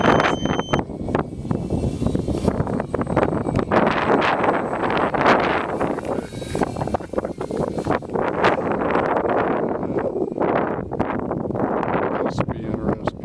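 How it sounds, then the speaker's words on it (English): Strong gusting wind buffets the microphone outdoors at a model P-51 plane flight on a windy day, loud and continuous with roaring surges throughout. "That wind."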